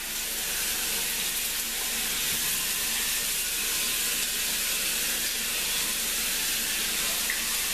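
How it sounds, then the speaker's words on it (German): Cold water rinses the grout lines of floor tiles, giving a steady, loud hiss and splash of running water that continues evenly for several seconds without talk. "Und ich nehme in meinem Fall dann kaltes Wasser und spüle erstmal die Fugen richtig ab."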